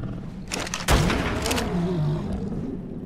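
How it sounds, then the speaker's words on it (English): A rifle fires a single sharp, close shot at a creature in Ark Survival Ascended, set against ongoing game ambience, followed by a low, wavering animal roar. "Let's see if my rifle will work on this thing."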